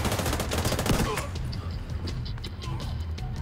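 Rapid bursts of gunfire in the video game Tom Clancy's The Division 2, dense and loud at first, then thinning to scattered distant shots under a steady game soundscape.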